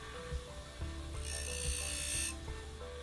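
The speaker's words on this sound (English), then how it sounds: "hold the scraper at an angle like this and grind away at the corners a bit to make sure that those corners stay sharp" A metal 3D printer scraper ground at an angle to sharpen its corners, giving a steady close mechanical whir with a harsher hiss of grinding contact partway through and no talk.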